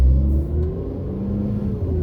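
A Triumph Speed Triple motorcycle engine rumbles and revs nearby, its pitch climbing smoothly as it accelerates, loud and continuous, on Alton Road in Irvine, California.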